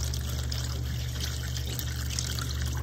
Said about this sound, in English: And then to that, we're gonna add the water next, which is one quart, one liter, one quart.